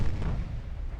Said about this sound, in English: Hernani has been hit by 2 torpedoes